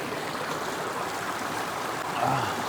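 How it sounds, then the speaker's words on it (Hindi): A fresh glacier-fed mountain stream in the Sainj Valley flows steadily, a continuous broadband rush of water close by, with no voices over it. "ये है fresh water coming directly from glaciers."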